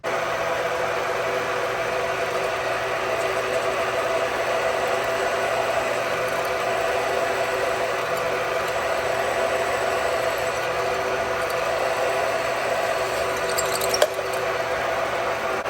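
Power drill boring a hole in a Harley-Davidson Bad Boy motorcycle part, a steady, loud continuous whine and grind running unbroken throughout with no talk.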